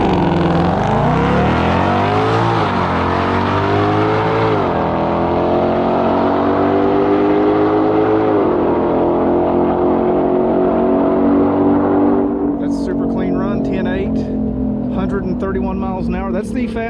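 A 2020 Shelby GT500 Mustang accelerates hard with a raised rev limiter and manual shifts, its loud close engine climbing in pitch through several gear changes before dropping away into a lower rumble with crackling at the end.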